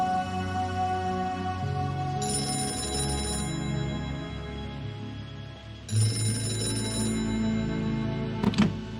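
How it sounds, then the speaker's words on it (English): A telephone rings in the adventure game Gray Matter, repeated bursts of a bright bell tone over a low ambient score, fairly loud and alone. "How did you know the phone would ring just now?"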